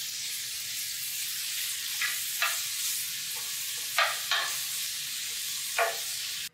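Onion and mixed vegetables sautéing in a pan make a constant sizzle broken by a handful of scraping stirs, up close and fairly steady, without any voices.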